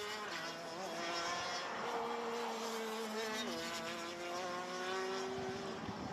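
Racing karts lapping a circuit, several high-pitched engines whining together with steady tones that shift in pitch as they pass, continuous and moderately loud with no talk.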